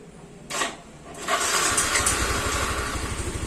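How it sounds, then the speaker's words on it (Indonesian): A Yamaha Mio M3 scooter, repaired after hard starting and sputtering, cranks with a short whir, catches and settles into a steady, rapid putter at close range. "startnya lancar, langsung nyala ya guys ya"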